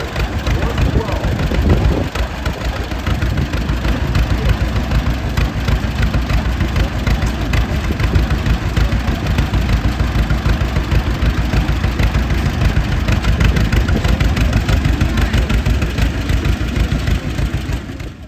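A 1972 John Deere 112 tractor's engine at a tractor pull at a harvest reunion, a steady loud low rumble that holds level throughout, with a crowd and announcer chatter mixed in.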